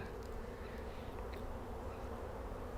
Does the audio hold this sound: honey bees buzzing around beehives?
yes